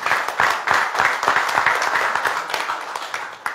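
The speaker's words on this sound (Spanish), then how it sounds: "este aplauso más para mí es para ustedes" A crowd claps continuously in brisk, scattered applause, moderately close and steady for a few seconds.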